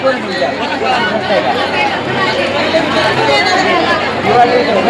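A dense crowd at Tuljapur temple fills the air with steady, loud, overlapping chatter and many voices talking at once, with no break.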